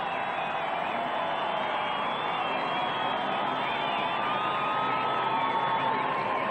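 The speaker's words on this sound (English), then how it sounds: "Listen to that crowd." Racecourse crowd roaring and cheering after an emotional Cup-race victory at a VRC meeting, a dense, steady wall of many voices sustained throughout with no break.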